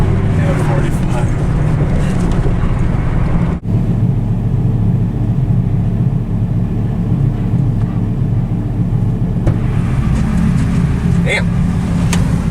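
A turbocharged Dodge Ram SRT-10 Viper truck with a hood dump exhaust roars loudly at speed, a dense, continuous low engine rumble with wind buffeting, and people talk over it inside the cab.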